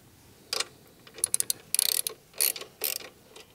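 A ratchet fitted with a 17 mm socket works the side stand bolt on a Honda CRF300L motorcycle, giving short bursts of rapid metallic clicking in several separate strokes, close and fairly quiet, with no voices.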